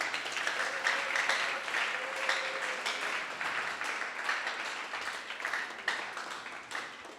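Sustained applause from a gathered audience honoring a team at a neighborhood youth-space event, a steady dense wash of clapping holding for several seconds at moderate distance with a faint voice briefly audible beneath.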